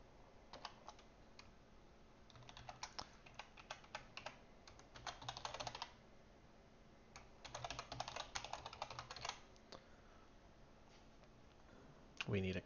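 Typing code on a computer keyboard, quiet bursts of rapid key clicks in several short runs separated by pauses, with a voice speaking softly over them.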